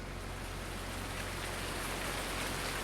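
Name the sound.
rain falling in a video game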